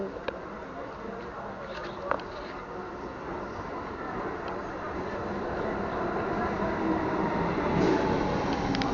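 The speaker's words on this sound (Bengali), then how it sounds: "ওই দেখো ট্রেন আসছে।" A train pulls into a station with a steady, rising rumble and wheel noise that grows louder toward the end, with faint voices mixed in.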